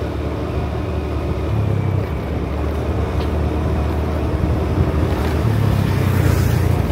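Sea waves wash steadily at Magting on Camiguin Island, a continuous broadband surge with wind buffeting the microphone and a faint low engine-like drone throughout.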